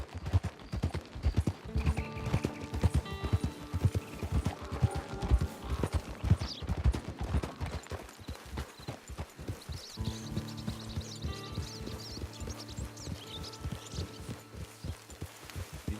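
Horse hooves clip-clopping steadily in the Western video game Red Dead Online, with a dense, continuous rhythm over game music and ambience, and a brief whinny.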